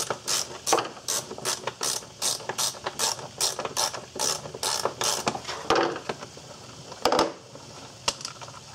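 A ratchet working a T30 Torx bolt loose on a Volkswagen Jetta GLX engine, a rapid series of close clicking ratchet strokes in regular bursts, with a few clunks and pauses near the end.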